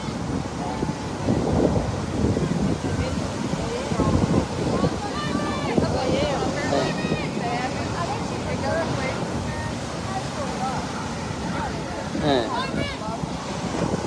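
Ocean waves wash on a seashore beneath steady wind noise, while many people talk and call out nearby throughout.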